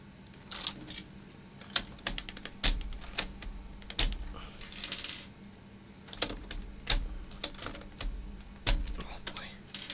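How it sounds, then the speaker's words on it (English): Keycaps are pried off an HHKB keyboard, producing a run of sharp plastic clicks and snaps at irregular intervals, close up, with a faint voice in the background. "It's a lot harder to take out than regular keycaps."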